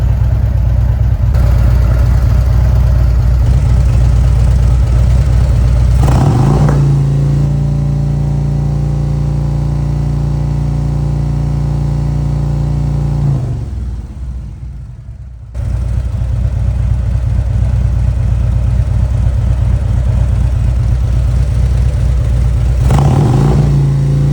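A car engine runs loud and close at a steady idle, the pitch shifting as it settles, then dips briefly before returning to a constant mechanical hum with no talking.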